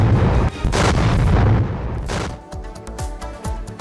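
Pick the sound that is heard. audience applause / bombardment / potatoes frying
bombardment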